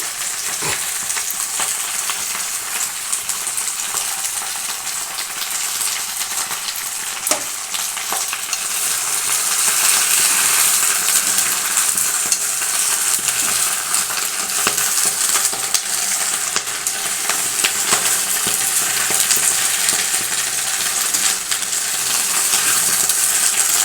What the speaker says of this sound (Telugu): కొంచెం లో ఫ్లేమ్లో పెట్టుకొని ఫ్రై చేసుకోవాలండి. కొంచెం చిల్లుతుందండి ఆకు, కొంచెం జాగ్రత్తగా వేపుకోవాలి.